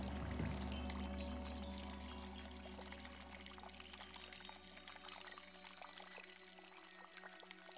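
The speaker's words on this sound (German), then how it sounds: "Jetzt komme ich zum Jungbrunnen." Water from a fountain of youth in the Discworld 2 adventure game pours and splashes in a steady continuous stream, soft and fairly faint throughout.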